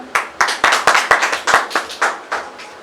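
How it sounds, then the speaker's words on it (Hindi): Audience at a live Hindi theatre play clapping in a loose, uneven rhythm, about a dozen distinct sharp claps spread over a few seconds, fairly close and clear with no talk. "तालियां।"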